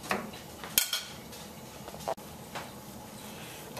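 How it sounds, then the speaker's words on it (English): Browned beef rib pieces are dropped back into a pot with carrots: scattered metallic clinks and scrapes of utensil against cookware, a few sharp knocks amid quiet kitchen background. "it's time now to add back the brown pieces of beef back to the pot"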